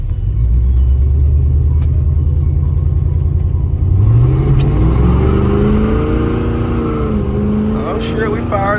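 A 1985 Chevrolet C10 with a 4-barrel carburetor and turbo 350 transmission rumbles loudly up close, then revs and climbs in pitch as the engine opens up, with a shift-like dip near the end.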